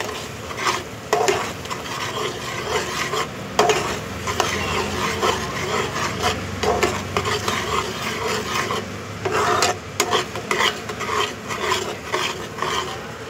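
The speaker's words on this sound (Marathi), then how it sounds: "हळद गरम मसाला आणि लाल तिखट हे टाकून आता आपण पुन्हा त्याला हलवूया" Spices stirred into a pan of paneer tikka with a spoon, a steady scraping swish with light sizzling and occasional clinks of metal against the pan, continuous and close, with no voices.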